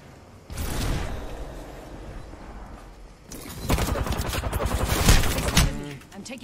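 Gunfire in Apex Legends: rapid volleys of weapon shots in two long bursts, loud and dense, with the second stretch heavier and more sustained.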